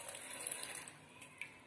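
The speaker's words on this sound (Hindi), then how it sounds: "थोड़ा सा पानी डाल लीजिए" A little water poured into red chilli, garlic and lemon chutney ingredients before grinding: a soft, steady trickling splash, quiet and close, lasting briefly with no talk over it.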